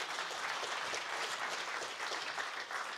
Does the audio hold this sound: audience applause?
yes